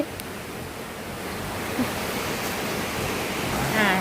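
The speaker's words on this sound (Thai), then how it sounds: "นี่ค่ะฝนตก ตั้งแต่ เมื่อคืนแล้วเนาะตกตั้งแต่เมื่อคืนนะ" Steady rain that has been falling since the night before, a dense, even hiss close by with no letup and no talking.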